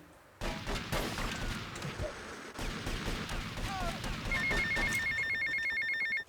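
A payphone rings in GTA Vice City Definitive Edition, a repeating electronic bell pattern that grows clear and steady near the end over busy game noise, gunfire-like bursts and music.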